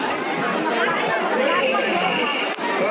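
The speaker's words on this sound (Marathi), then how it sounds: "आणि गर्दी बघा" A dense crowd chatters continuously at Bhimashankar temple on Mahashivratri, many overlapping voices forming a loud, steady babble close by.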